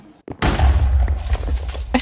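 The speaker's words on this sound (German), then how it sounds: "es gibt eine Explosion" A Minecraft explosion bursts with a sudden loud boom after a brief pop, then a rumbling decay lasting over a second, close and alone with no talk.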